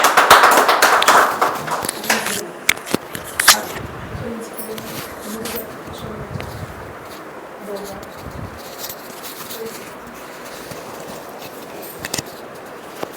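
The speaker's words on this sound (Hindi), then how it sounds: "गवाही के लिए हम जोरदार ताली बजाएंगे।" A church congregation claps loudly in a brief burst at the start, fading quickly into a quieter room with scattered taps and faint sounds.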